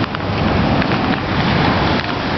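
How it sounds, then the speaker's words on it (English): Loud, dense wash of surf and rushing water, a continuous roar of Caribbean ocean waves with no speech, at Infinity Bay on the island of Roatan, Honduras. "Sound of the ocean."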